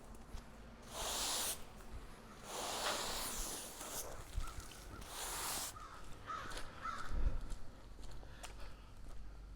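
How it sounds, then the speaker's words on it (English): Crows caw loudly several times in a row, harsh calls spaced a second or two apart, with rustling and outdoor noise between them. "Crows are loud."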